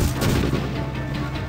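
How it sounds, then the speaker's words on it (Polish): Grenade explosion in the video game Medal of Honor Warfighter, a loud, dense rumbling blast with a sustained boom and crackle that fills the short moment, heard alone without talk. "Granat wybuchł."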